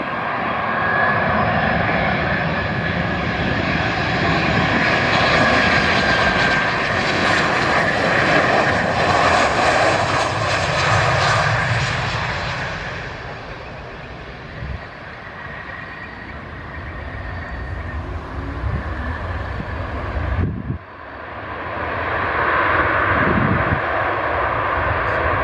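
A Boeing 737-700 jet airliner of GOL, registration PR-GEU, roars through landing and takeoff at Joinville airport, a loud continuous engine rumble that swells and fades, briefly dropping before surging again with no voices.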